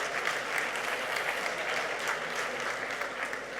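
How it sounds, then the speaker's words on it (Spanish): Steady applause from an audience at an education talk, a dense, even patter of many hands clapping throughout with no voice over it. "no me aplaudáis, de verdad"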